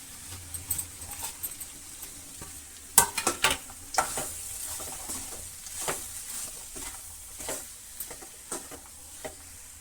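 Mashed potato and turmeric-fried onions being mixed in a pan for masala dosa filling: repeated close scraping and patting strokes of a spatula over a faint sizzle, steady and rhythmic.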